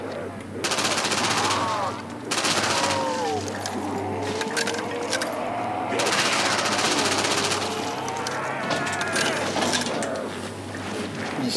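Gunfire from weapons in Black Ops 1 Zombies, a video game, crackling in bursts across most of the clip. It sounds loud and dense, with game effects and music tones mixed in.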